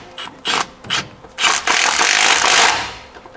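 A ratchet with a 19mm socket working on header bolts on a square body truck, short clicking bursts followed by a longer rasping ratchet run, close and loud.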